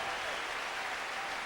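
Audience applause fills the hall at the Miss World 2001 pageant in Sun City, South Africa, a dense, steady wash of clapping heard alone throughout.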